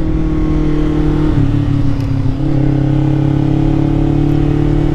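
A Kawasaki EX-500 motorcycle engine drones loudly and steadily up close, its pitch shifting briefly as it changes gear before pulling on at a constant roar.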